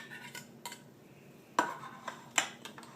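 A metal fork scraping tuna out of a can, a few faint clinks and scrapes with short pauses between them, close and quiet.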